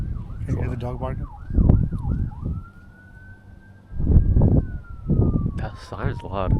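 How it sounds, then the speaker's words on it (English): A loud emergency vehicle siren wails past a car on a backroad, first in a fast yelp, then a long steady tone that falls away, with people talking over the engine noise. "That siren's loud."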